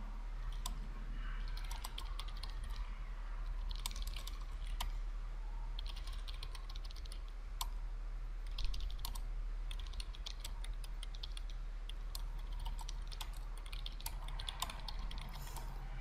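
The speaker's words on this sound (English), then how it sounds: "And you'll see I'm going to type in for more information" Rapid keystrokes clatter on a computer keyboard as listing details are typed into a real estate form, steady close clicking in bursts with short pauses over a low background hum.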